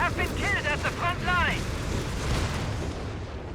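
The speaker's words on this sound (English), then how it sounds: "There's some rockets striking down." Rockets striking down in the Company of Heroes 3 strategy game, a run of whistling descending shrieks followed by a heavy rumbling blast that fades out over about three seconds.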